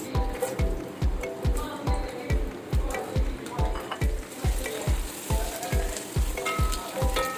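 Onions frying in oil for an apple gourd curry, with loud rhythmic scraping strokes, roughly two per second, over a sizzling hiss and no voices.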